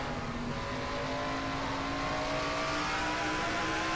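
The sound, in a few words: race cars racing in a NASCAR racing video game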